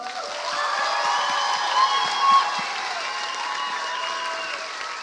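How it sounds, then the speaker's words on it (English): Steady, sustained applause from a large theatre audience at a youth musical in Dubai fills the whole stretch, with no gaps and a brief swell near the middle. "Can we have one more round of applause for this amazing cast and the amazing team?"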